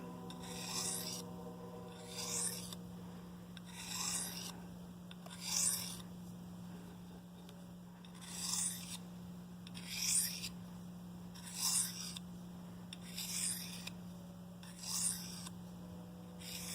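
A knife is sharpened on a medium grit diamond stone in evenly spaced rasping strokes, about ten of them, each a short gritty scrape, close and fairly quiet over a low steady hum.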